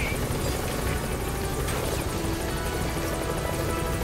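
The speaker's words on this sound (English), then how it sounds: "I guess the chopper's gonna distract them better." A helicopter flies in Metal Gear Solid 5, its rotor and engine roar loud and continuous throughout, with gunfire and action sounds faintly mixed in.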